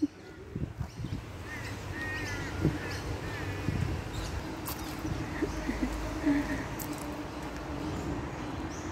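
Wild bird calling from bushland beside a running stream, a few scratchy cawing calls at moderate distance over a background of flowing water and rustling.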